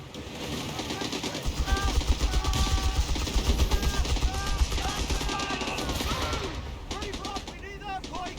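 Infantry gunfire rattles through a busy Company of Heroes 3 battle, bursts of automatic fire layered over heavy low rumble, radio chatter and game voice lines, dense and continuous for most of the stretch.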